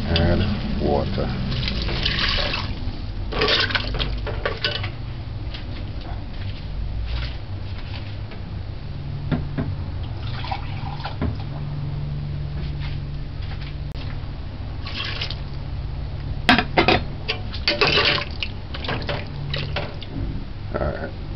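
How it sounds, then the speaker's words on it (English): Water poured into a cooking pot on a stove while making heart stew, a continuous splashing, trickling flow with occasional louder gushes, running under a low background hum for most of the time. "Add water."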